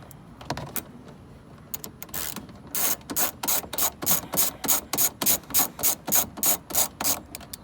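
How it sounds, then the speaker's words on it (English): A ratchet with a 10 mm socket loosens plastic bumper bolts, giving a close, loud ratcheting rasp in steady rhythmic strokes, about a dozen even pulses after a few scattered clicks, with no talk. "with a 10 millimeters we unscrew the bolts"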